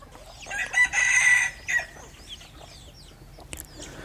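A crossbred rooster crows once in a long, strained call in the early morning, followed by quieter clucks and faint rustling.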